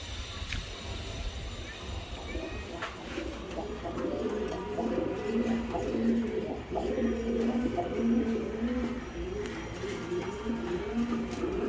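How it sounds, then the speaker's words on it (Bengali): Indian giribaz pigeons coo in a low, repeated rhythm, a steady series of soft calls close by over a continuous noisy background with some faint voices. "একজোড়া অরিজিনাল ইন্ডিয়ান কবুতর"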